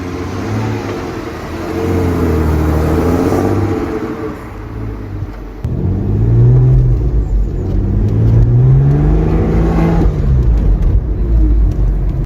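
A Porsche sports car in a Need for Speed game, its 250-horsepower engine paired with a 6-speed manual, revs loudly and steadily, the pitch rising and falling through gear changes, close and with no voices.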